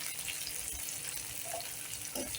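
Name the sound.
curry leaves frying in oil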